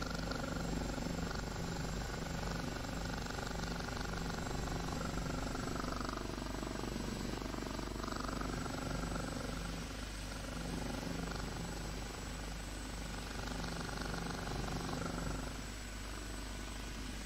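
An OH-58D helicopter transitions to a hover, a constant loud rotor and turbine drone heard from inside the cockpit, steady throughout with no speech.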